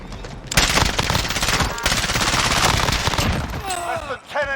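Sustained automatic fire from a FiNN LMG in Call of Duty: Warzone, a loud, dense rapid burst lasting about three seconds, then tapering into clinks and mechanical sounds.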